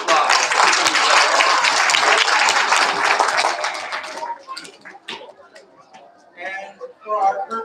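Children and families at a kindergarten and first-grade school awards assembly clap in a dense, loud burst of applause for about four seconds, then it thins out and fades among scattered voices.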